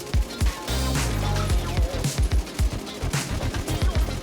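A RAM 7 rifle in Warzone 3 empties a 60-round magazine into a wall, a rapid automatic stream of close, punchy shots with sharp repeating thumps that runs almost without pause.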